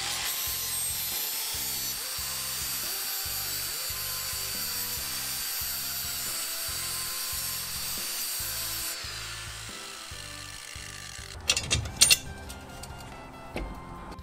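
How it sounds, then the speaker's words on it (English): Lawn mower blades being sharpened with a power tool, giving a steady, loud grinding and whirring drone with a pulsing rhythm for several seconds, then stopping, followed by a few metallic clanks and handling noises. "It does really quick work of just touching up blades and sharpening them."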